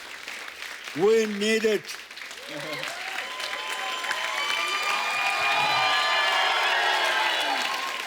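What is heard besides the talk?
studio audience applause and cheering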